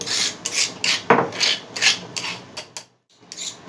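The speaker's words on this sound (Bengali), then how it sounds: "এটাকে খুব ভালো করে আমি মিহি করে বেটে নেব" A spice paste is ground finely on a stone by hand, heard as close, loud, rhythmic rasping strokes with a brief pause near the end and no talking.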